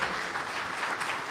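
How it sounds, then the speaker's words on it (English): Brief steady applause from an audience at a developer meetup thanks the speaker, a dense wash of clapping with no voices. "Let's give Rabi a round of applause."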